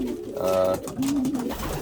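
Pigeons cooing in a home loft, two close, loud throaty coos in quick succession.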